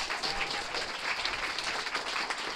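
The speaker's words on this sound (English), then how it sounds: "now let's give Amanda a round of applause" Audience applause at a CreativeMornings talk, a steady wash of many hands clapping together for a couple of seconds.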